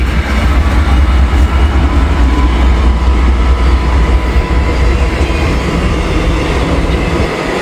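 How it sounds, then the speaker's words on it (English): A BNSF autorack freight train led by an SD70 locomotive rolls past close by, a loud unbroken roar of wheels and rattling cars with faint clickety-clack, steady for the whole stretch. "Yeah, I know it's an Autorack train"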